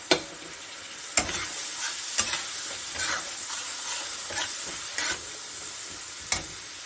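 Masala paste of coriander powder fries in a pan for a fish curry, a close continuous sizzle broken by regular sharp spoon clacks against the pan as it is stirred, with no talking.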